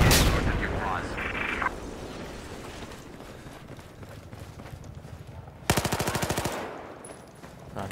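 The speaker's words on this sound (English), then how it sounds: "I saw someone shooting behind me." Gunfire in Battlefield 4 multiplayer: a loud, rapid automatic burst of evenly spaced shots breaks in late, over a steady wash of battlefield ambience.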